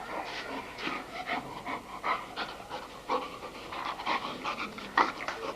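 A dog pants close by in quick, steady breaths, rhythmic and fairly soft, with no talking.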